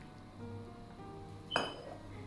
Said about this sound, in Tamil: இனி வந்து எடுத்து வச்சிருக்கிற மில்க் ஆட் பண்ண போகிறேன்